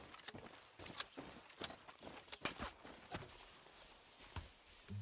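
Horse hooves clip-clopping in Far Cry 6, faint irregular hoof strikes close by, with uneven spacing as the animal moves over the ground.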